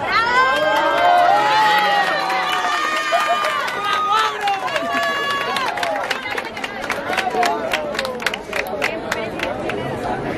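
A school crowd at a Day of the Dead altar event in Cutzamala de Pinzón, Guerrero, cheers and applauds, with shouting children and lively voices over scattered clapping that grows sharper toward the end.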